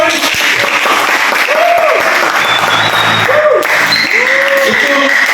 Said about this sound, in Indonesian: tepuk tangan dulu buat Floren.